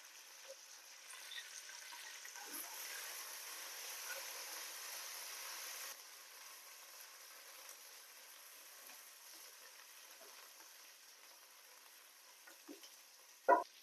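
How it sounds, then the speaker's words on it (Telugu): Spices sizzle and fry dry in a pan with mint and coriander leaves and cashews for malai chicken, a steady soft crackle with louder bursts early, then quieter, ending in a sharp clatter. "ఇలా డ్రైగా ఫ్రై అయిపోవాలండి."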